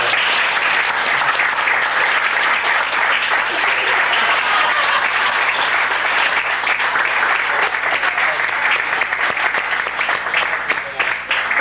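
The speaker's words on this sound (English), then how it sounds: "And if I could just give Tom a little round of applause for everything he's done." A roomful of guests at a 50th wedding anniversary party breaks into sustained, loud applause, an even wash of clapping that holds steady for over ten seconds.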